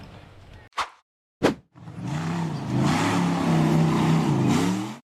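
An off-road buggy accelerates up a steep forest slope; after two sharp clicks the engine revs up and holds a loud, wavering drone that builds and then cuts off abruptly.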